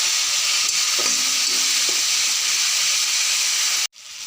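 Spices sautéing and being stirred in a hot pan for a village-style egg curry with potato, a loud steady sizzle with a few scraping strokes, cut off abruptly near the end by a brief quieter hiss.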